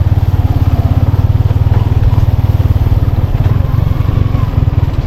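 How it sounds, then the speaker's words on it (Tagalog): A motorcycle engine labors steadily over a rough trail, its low, pulsing throb loud and close throughout with faint rattling and no talk. "Napalaban yung motor natin."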